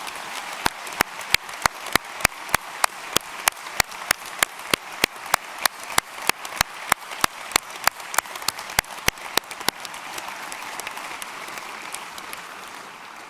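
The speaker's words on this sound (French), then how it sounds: "Je vous propose de toutes et tous les applaudir pour les récits." A crowd applauds at a university academic-year opening ceremony, with dense sustained clapping overlaid by regular loud sharp claps that thin out and fade near the end.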